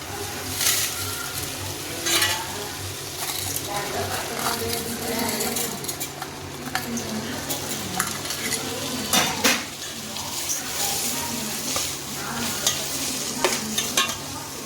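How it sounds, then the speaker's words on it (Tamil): Chana dal is stir-fried in a pan for a kadalai paruppu chutney, a continuous close sizzle broken by repeated spoon scrapes and clinks against the metal, with no talking. "கடலைப்பருப்பையும் இதிலே போட்டு வதக்கிக்கலாம்."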